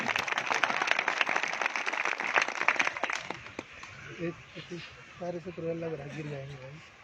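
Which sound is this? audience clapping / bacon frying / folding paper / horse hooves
audience clapping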